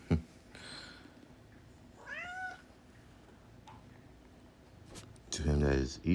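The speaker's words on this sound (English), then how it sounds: "It's like this cat jumping all over the place." A house cat meows several times while jumping around a room, with rising and falling cries over a low background hiss and a louder, drawn-out cry near the end.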